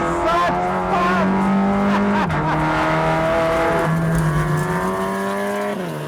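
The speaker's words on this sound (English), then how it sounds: "In the Vento, there's no catalytic converter and the open pipes gave out a glorious exhaust note" A Volkswagen Vento race car with open pipes and no catalytic converter blares a loud, raspy exhaust note nearby, holding a sustained rev with quick dips in pitch at each gear change.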